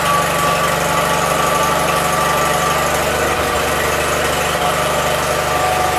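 A 1977 Gravely 817 tractor engine runs at a steady idle, a loud, even mechanical drone with a constant low throb and no pauses.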